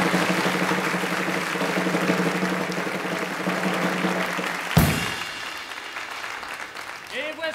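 Theatre audience applause in a French variety show, moderate clapping under a musical tone with background voices, cut off midway by an abrupt change to quieter sounds.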